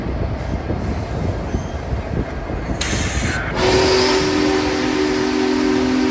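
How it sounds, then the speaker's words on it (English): Union Pacific's Big Boy, a massive steam locomotive, rumbles directly overhead on a bridge on a hot summer day, heavy rolling rail noise and wheel clatter building to a loud close roar with a sustained squealing tone. "Having this massive steam locomotive roll right on top of my head was absolutely incredible."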